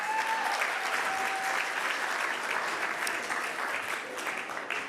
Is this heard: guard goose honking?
no